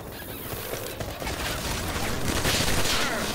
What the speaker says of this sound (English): Damn, man, quit shooting me! Do not shoot me!